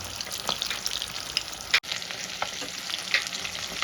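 Pieces of rohu fish fry in hot oil over a high gas flame, giving a steady close crackling sizzle with scattered pops and a sharp spatter near the middle, with no voices.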